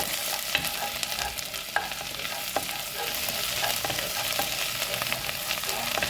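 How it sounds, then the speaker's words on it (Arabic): Garlic sizzles in hot oil and butter while being stirred in a pan, a continuous moderate frying hiss with occasional soft scrapes and clinks, no talking. "دلوقتي اهو نقلب توم كده فيها"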